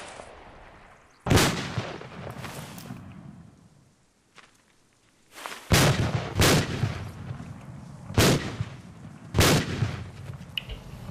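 Heavy, separate explosions and blasts in the Arma 2 war game, several loud booms spaced a second or two apart after a quieter stretch, each with a rumbling tail.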